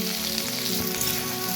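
Garlic, ginger and tomato fry in a pan with a steady, soft sizzle that holds evenly and close by for a brief stretch.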